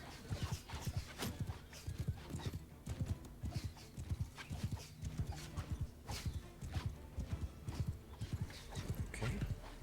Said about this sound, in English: Right, these are horse archers.